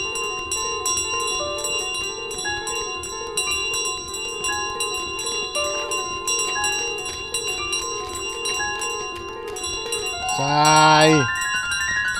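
A bell rings over and over in Untitled Goose Game, its bright repeated strikes chiming in a steady rhythm over the game music, with a short rising honk near the end.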